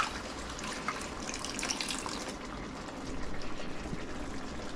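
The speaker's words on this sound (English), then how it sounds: "the remaining stock, the other 2 cups, I'm going to add straight into here" Stock poured into a pan for sage and sausage stuffing, a steady liquid pour with sizzle and splash, continuous and close.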